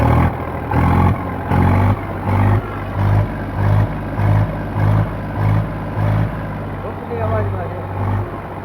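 A used Eicher 368 tractor engine with about 4000 hours runs with a steady, pulsing low throb, while someone talks nearby over it.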